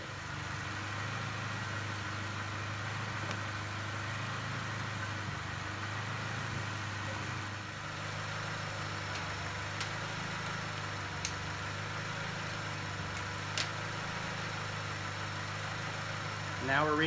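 A Honda Civic with a D16Z6 engine idles with a steady, even hum that holds throughout, with only a few faint ticks over the constant drone.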